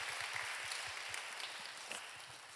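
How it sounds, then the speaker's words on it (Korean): A church congregation applauds together in a steady, fairly soft patter of hand claps that continues for a few seconds without letting up. "여러분께 박수로 환영하시죠"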